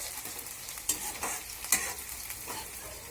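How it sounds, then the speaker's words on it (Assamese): Onion frying in oil for a taro-leaf curry, a steady soft sizzle broken by a couple of louder scraping stirs, close and moderately quiet with no talking. "এতিয়া মই তেল দি পেলাই পিঁয়াজটো ভালকৈ এতিয়া ফ্ৰাই কৰি ল'ম"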